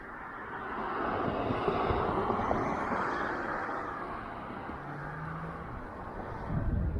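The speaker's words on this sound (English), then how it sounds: "You hear the tire roll, right?" Car tires roll on the road near a busy stop-sign intersection, a soft broad hiss that swells as a vehicle passes, fades, then rises again at the end.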